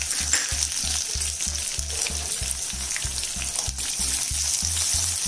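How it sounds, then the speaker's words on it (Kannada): Chopped onion added to a tempering of chopped green chillies on a low flame, for pearl millet vermicelli upma, fries with a strong, continuous sizzle and crackle over a steady low pulsing hum. "ಒಂದು ಈರುಳ್ಳಿ ಚಾಪ್ ಮಾಡ್ಕೊಂಡಿರೋದನ್ನ ಹಾಕೋಬೇಕು"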